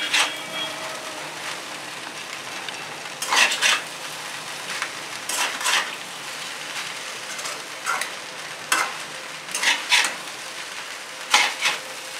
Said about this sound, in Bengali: এবার একটু নাড়বো